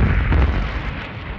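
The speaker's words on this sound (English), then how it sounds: "Anyone on the ground would hear two very loud bangs," A sonic boom from a supersonic Concorde airliner heard from the ground: a heavy, loud blast that swells briefly and then rolls off into a deep, fading rumble.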